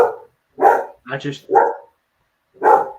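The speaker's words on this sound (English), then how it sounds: "that was my dog" Dog barking close by indoors, several loud single barks spaced out, with a man's brief speech between them.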